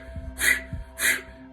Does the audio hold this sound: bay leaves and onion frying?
no